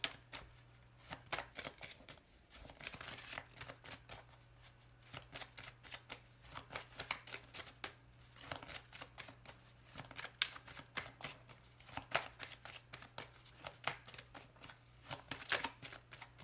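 Lenormand cards are shuffled by hand at a tarot-reading table: dense, continuous riffling and slapping with rapid irregular clicks, close and moderately loud throughout, a low steady hum beneath and no talking.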